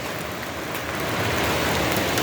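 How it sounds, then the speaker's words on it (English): Steady, dense rain in May falls continuously near an old powder mill works building, a constant hiss with patter on surfaces and no speech over it. "all we have is rain again in May"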